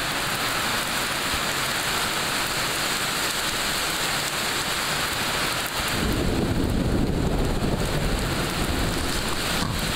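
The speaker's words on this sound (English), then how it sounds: "This is the rain I was telling you about." Pouring rain drums loudly and steadily on an outdoor work area, a continuous broadband hiss that grows heavier and denser partway through.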